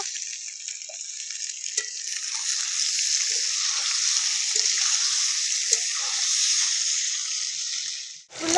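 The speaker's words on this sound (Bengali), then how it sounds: "এই যে আলুগুলো ভাজা হয়ে গেছে সুন্দর" Potatoes frying in hot oil with a little turmeric and salt produce a continuous bright hiss and sizzle, fairly steady and close, with a few faint clicks and no talk.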